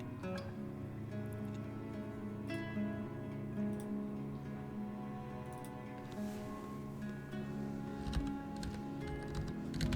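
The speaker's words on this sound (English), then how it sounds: "I'm typing on the wrong keyboard" Computer keyboard keys clatter in quick irregular bursts of soft clicks, fairly close, over a steady low background hum, with no voices.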